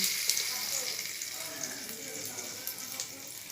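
Water lily stems fry in oil seasoned with salt and turmeric, giving a bright, continuous hiss that sounds close and fairly loud, with small sputtering flickers throughout.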